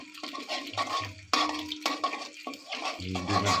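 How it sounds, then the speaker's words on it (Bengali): Eggs being stirred and scrambled in a frying pan while making noodles, with a utensil scraping and clinking against the pan in steady bursts over a soft sizzle, close and fairly loud. "ডিম দিয়ে দিয়েছি স্ক্রাম্বল তৈরি করার জন্য। যেভাবে একটু নেড়ে নিচ্ছি।"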